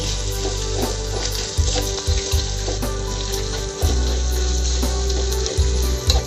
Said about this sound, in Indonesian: Kita oseng-oseng lagi.